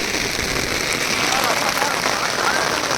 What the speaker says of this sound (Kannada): ಮಳೆ ನೋಡ್ರಿ ಹೆವಿ ಬರ್ತೈತೆ ಮಳೆ